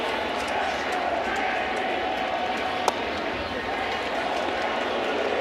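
Packed baseball stadium crowd cheering at a Yankees–Red Sox game, a sustained wash of roaring and clapping with one sharp crack partway through, and a murmur of voices underneath.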